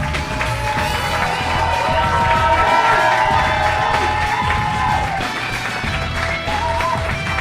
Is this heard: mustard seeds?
no